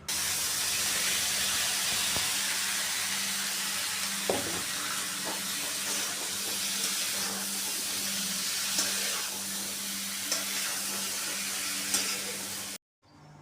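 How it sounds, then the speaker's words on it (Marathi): Diced potatoes and eggplant sizzle in a hot masala in a village kitchen pan, a steady broadband frying hiss broken by a few soft stirring clicks, close and continuous until it cuts off near the end. "ह्या मसाल्यामध्ये ना हे वांगे आणि बटाटे म्हणजे एक साधारणतः एक मिनिटभर असं मी फ्राय केले"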